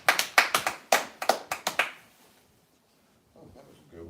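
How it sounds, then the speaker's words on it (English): Closing a talk show about relationships, a quick run of roughly a dozen crisp claps lands in a steady, fast rhythm close by, then fades into near silence before faint talking resumes at the very end. "Clap it up, y'all. Clap it up."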